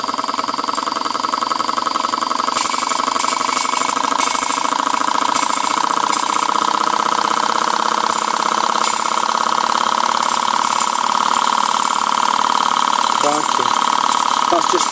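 A Boucher S62 steam engine runs at a constant 30 psi from a CF2 boiler, giving a loud, steady mechanical hum and rapid chuffing throughout, with a voice talking over it.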